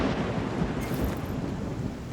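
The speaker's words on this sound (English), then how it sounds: "So lightning struck the ground there." Thunder after a lightning strike in the video game Wartales, heard as a dense, continuous rumbling roar like a storm that stays loud and close throughout with no speech.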